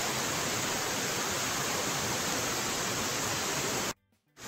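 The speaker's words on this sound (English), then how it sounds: "There's a waterfall cascading behind us that is very pretty." Connestee Falls near Brevard cascades nearby as a steady, loud broadband rush of water that cuts out abruptly just before the end.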